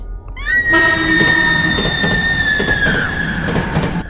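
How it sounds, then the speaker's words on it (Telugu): A train rushes fast along the track in a horror story, a loud roaring pass with a long high-pitched whistle or squeal sliding down over the rumble, close and dominant. "వేగంగా వచ్చిన ట్రైన్ అదే ట్రాక్ పై నుంచి"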